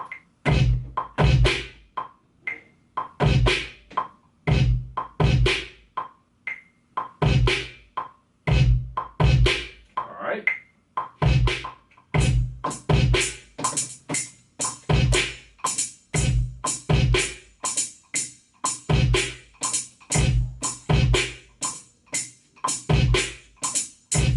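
A punchy Maschine 2 drum machine loop repeats steadily, with sharp kicks and snappy hits in a tight rhythm that grows busier toward the end.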